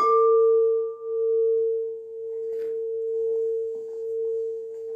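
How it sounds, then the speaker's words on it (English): A single big gong is struck once in a yoga class, a loud pure tone that rings on steadily and slowly fades over several seconds, alone. "One big gong."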